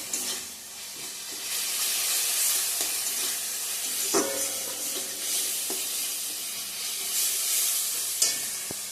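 Spice paste sizzles steadily in hot oil for an egg curry with potato and cauliflower, a continuous bright crackle broken by a few sharp scrapes of a spatula stirring the pan, close by and with no voices.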